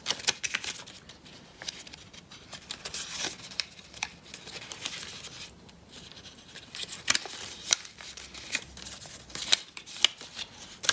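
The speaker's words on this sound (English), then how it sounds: "Fold it, make sure they're nicely creased," Paper rustling and crisp crinkles while a paper fortune teller is folded and creased, close and quiet, with soft scratchy brushes and occasional sharper taps.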